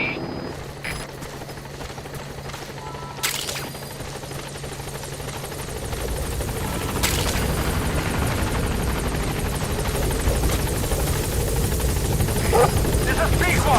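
B-Quad helicopter arriving at a landing zone in Metal Gear Solid V, a rotor thrum swelling louder and nearer over the clip with a couple of sharp clanks, while a voice speaks over it.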